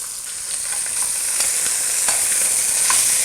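Beef shanks sear in a hot pan with a continuous bright sizzle and crackle, broken by a few sharper spits and pops, close up and with no voices.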